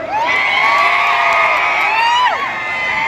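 Crowd at a Maharashtra political election rally shouting and cheering in a loud, sustained roar with shrill whistle-like tones running throughout, sliding down and easing slightly near the end.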